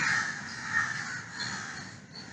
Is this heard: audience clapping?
no